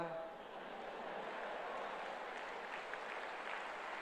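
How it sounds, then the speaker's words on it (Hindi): Audience clapping inside an indoor stadium during a motivational talk, a steady dense patter of applause that holds for several seconds at a fairly distant, moderate level, with no voice over it. "ये तालियां आपने इसलिए बजाई कि आप अनुभवी हो इसके"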